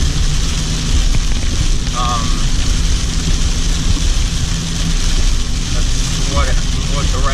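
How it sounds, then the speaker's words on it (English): Heavy rain pours down during a thunderstorm, a loud, steady wash of broadband hiss running throughout while someone talks over it. "this rain ain't hurting us super, so it'll be okay. Yeah, it's really coming down."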